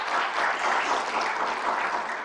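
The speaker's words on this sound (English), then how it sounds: "I think deserves a round of applause." Audience applause at an IRENA assembly session, a dense, even burst of clapping close and full for its whole short length, with no voices over it.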